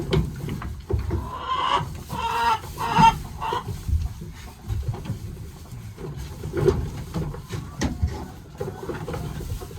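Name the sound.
chickens clucking in barn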